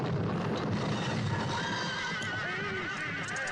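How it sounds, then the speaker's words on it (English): Horses neigh in The Brides of Dracula film, shrill whinnies rising over a dense rumble of hooves and carriage noise, loud and continuous throughout. "Easy, you stupid horses."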